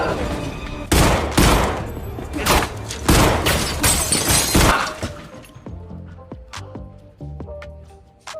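Gunfire shootout in an action film, with rapid loud bursts of shots and shattering in the first five seconds, then sparser single sharp cracks.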